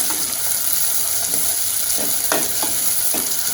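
Steady hiss of tomatoes sautéing in a pan for jackfruit seed kara kuzhambu, with a few soft scraping strokes of a spoon stirring through them.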